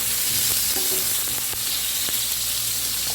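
Tomatoes sizzle loudly as they hit hot oil in a frying pan, a steady dense hiss filling the whole stretch with a few soft clinks and stirring knocks underneath, close and continuous.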